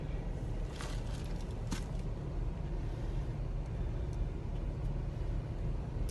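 Steady in-car road and engine rumble while driving in Kuwait traffic, with a couple of brief hissing bursts like nearby air brakes early on and no voices.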